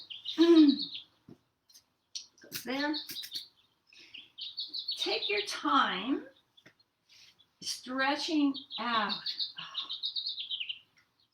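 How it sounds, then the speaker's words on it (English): Birds chirp outdoors before sunrise, bright repeated tweets weaving between and under a person speaking calmly during a yoga session. "Can you hear the birds chirping?"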